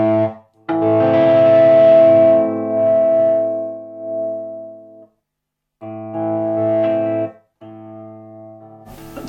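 Guitar amp hum with a steady tone is chopped off abruptly by a Decimator II noise gate pedal, leaving dead silence between bursts; the hum returns and cuts out again several times, with no talking.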